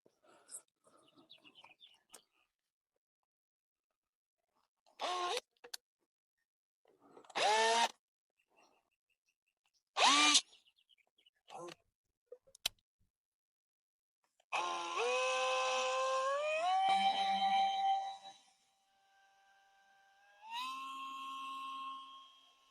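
A power drill bores holes for a drip irrigation line in a tomato and pepper garden. It whines in short bursts, then runs in two longer steady stretches with a rising pitch, with quiet gaps between and faint birdsong.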